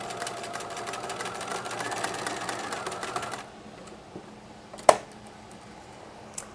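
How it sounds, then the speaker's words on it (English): Sewing machine zigzag stitching over a new swimsuit clasp, a steady close buzzing run for about three seconds that then stops, leaving quiet with a single sharp tap. "You can always go over it as well with a zigzag stitch just for extra durability."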